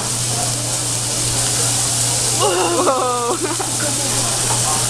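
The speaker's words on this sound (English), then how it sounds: "I love onions on fire." Onions flame and sizzle on a teppanyaki grill, stacked into an onion volcano, producing a loud, constant roaring hiss up close, with a brief excited shout partway through.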